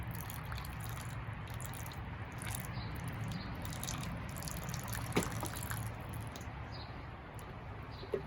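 Water poured down a soil hill model in a classroom demonstration, a steady continuous trickling wash that holds at an even level throughout, with faint background noise from the room.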